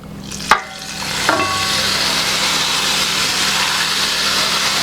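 Eggplant dish with mint dropped into hot oil: a sharp clunk, then a loud, steady frying sizzle that starts abruptly and continues unbroken to the end, with no talking.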